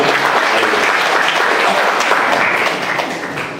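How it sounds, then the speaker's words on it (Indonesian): A large church congregation applauds loudly and steadily, a dense wash of clapping that fades slightly toward the end. "Oke, kita tepuk tangan buat Tuhan kita."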